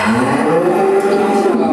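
White-backed cattle let out a loud, sustained low moo that carries unbroken for nearly two seconds, close and dominant in the scene.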